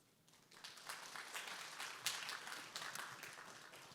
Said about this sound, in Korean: 오늘 주제 발표를 해주신 조철희 본부장님께 다시 한번 큰 박수 부탁드리겠습니다